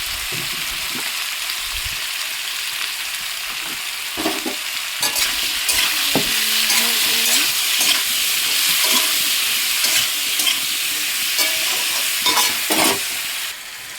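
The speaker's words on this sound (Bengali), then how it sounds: "এবার জল দিয়ে দেবো। নুন হলুদ দিয়ে দিচ্ছি।" Frying in a pan as water, salt and turmeric go in, a steady broadband sizzle with scattered stirring clatters and scrapes throughout, close and fairly loud, no voices.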